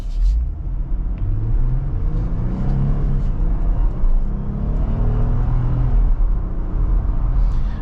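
A 2022 Jeep Wrangler's 3.6 V6 engine runs on a test drive, a loud, steady low rumble with rising and falling revs as it accelerates, heard from inside the cabin.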